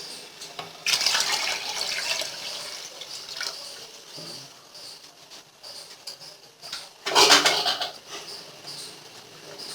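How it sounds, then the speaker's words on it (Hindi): Two short bursts of water pouring into a pot of rice for mutton biryani, the second louder, with quieter dripping and splashing between them. "थोड़ा पानी और डालेंगे।"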